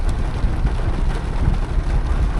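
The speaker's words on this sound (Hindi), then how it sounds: "बारिश भी हो रही है आज" Rain falls in a dense, steady low hiss around a taxi in Bhopal, loud and close with no speech over it.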